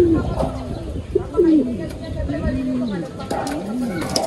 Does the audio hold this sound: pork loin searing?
no